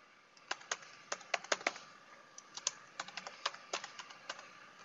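Computer keyboard typing in short irregular bursts of crisp keystrokes, close and fairly quiet, with brief pauses between words.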